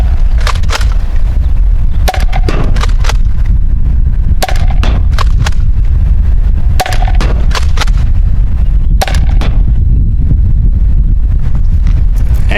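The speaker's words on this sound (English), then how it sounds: "Adventure Force blaster firing Adventure Force ammo." Adventure Force toy blaster firing Adventure Force foam ammo: a rapid run of sharp snapping shots in clusters over heavy, loud mechanical motor whir, close and continuous.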